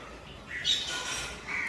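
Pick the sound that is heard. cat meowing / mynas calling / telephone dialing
mynas calling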